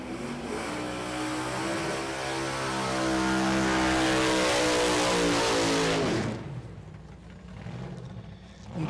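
A lone drag racing car makes a single pass down the strip at Las Vegas Motor Speedway, its engine roaring loud and rising in pitch before fading quickly into the distance.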